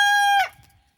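A Fayoumi chicken lets out a single short, bright, tonal call on a rooftop at dawn, clear and fairly close, then it breaks off and fades into quiet.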